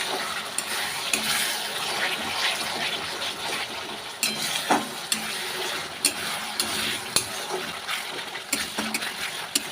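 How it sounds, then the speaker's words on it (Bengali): Spice paste for a chicken curry fries in oil, a steady close crackling sizzle with scattered sharp clicks and scrapes of stirring throughout, no voices. "মশলাটা আমার ভাজা হয়ে এসছে, দেখতে পাচ্ছি মশলা দিয়ে তেল বেরিয়ে এসছে।"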